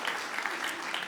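An audience at a LaughFest stand-up comedy show bursts into a steady round of applause, dense clapping filling the room evenly for the full moment.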